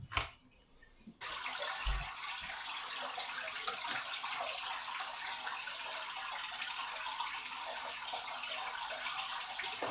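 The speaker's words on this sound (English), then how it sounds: "So I use this to extract the water, attach it to the hose and down to the buckets." Aquarium water runs steadily through a siphon hose into buckets, a soft continuous rushing flow that starts after a brief pause and stays even and fairly faint.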